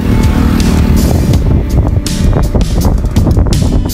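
A Yamaha R3 motorcycle sounds loud and close, a rough rumbling roar mixed with gusty wind noise, continuous throughout with no speech.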